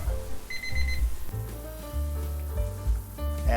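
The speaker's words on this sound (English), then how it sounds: "I just heard my timer beep" A kitchen timer beeps in a short run of high, evenly spaced tones near the start, heard over sizzling and clattering cooking sounds while a sausage, pepper, onion and potato bake is prepared.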